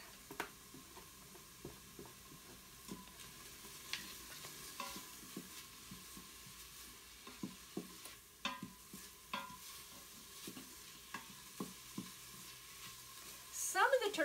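Onions and garlic sautéing in an Instant Pot, a low steady sizzle broken by repeated clicking scrapes of a spoon stirring at an uneven pace, close and quiet, with a brief louder clatter at the end.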